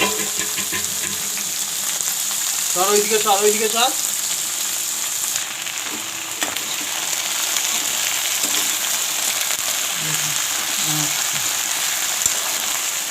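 Vegetables sizzle steadily in hot oil, close up, while a voice briefly speaks over the frying.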